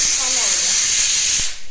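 A pressure cooker on a gas stove lets out a loud, steady rush of hissing steam that fills the whole moment before cutting off abruptly near the end, with a faint voice underneath.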